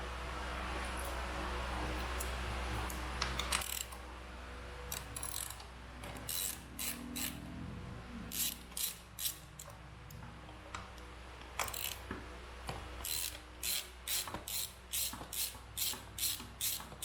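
Rapid ratchet clicking in short bursts, close and fairly quiet after a soft rustle of handling, while bolts are loosened on a 2019 Honda Monkey motorcycle during an intake and ECU install.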